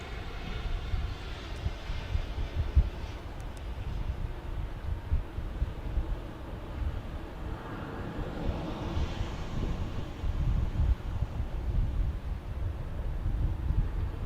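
A United Airlines jet in the old livery passes at San Diego airport, a steady broad engine roar with wind buffeting the microphone throughout and no talk.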